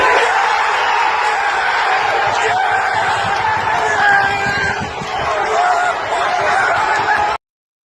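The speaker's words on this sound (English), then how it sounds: "Great crowd there." Crowd at a non-league football match involving Lancaster cheering a goal, loud and sustained crowd roar and chatter with whoops and laughter, fairly close and dense throughout before cutting off abruptly.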